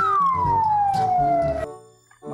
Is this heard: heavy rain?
no